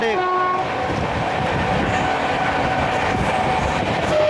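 Amrit Bharat Express on the Delhi–Patna run racing through Firozabad without stopping, heard from a general coach: a horn blast at the start, then a loud, steady rumble and rattle of wheels and carriages.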